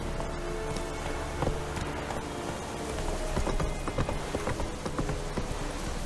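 Roach, a horse in The Witcher 3, gallops in a quick, uneven clip-clop of hooves, moderately loud against a soft background wash, with no voices.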